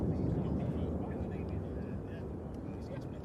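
A Loganair ATR 72 turboprop departs Manchester Airport for the Isle of Man, giving a steady, fairly distant engine drone with broadband rumble that holds level throughout.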